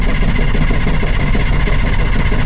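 A 1977 FC33 Wanderlodge bus engine runs loud and close, a dense, steady low rumble and clatter with constant vibration and no speech.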